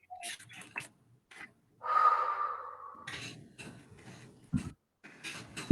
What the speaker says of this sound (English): And we're going to take a couple of deep breaths.